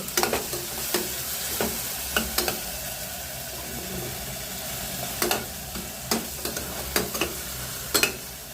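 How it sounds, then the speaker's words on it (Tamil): Tomatoes cooking down in a pan for tomato biryani, with a steady sizzle and repeated sharp scrapes and taps of a spoon stirring at irregular intervals. "தக்காளி நல்லா மசிஞ்சு வேகணுங்க."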